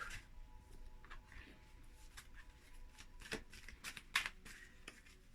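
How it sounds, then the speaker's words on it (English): An Energy Oracle card deck being shuffled by hand, a steady riffle of soft papery flutters with a few sharper card snaps near the end, close and fairly quiet with no talking. "I'm just going to draw a card here from the Energy Oracle deck."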